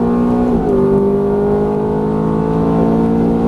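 Ferrari F430 engine at full throttle on a race track, a loud steady howl that shifts pitch briefly early on and then climbs gradually, heard close with no voices.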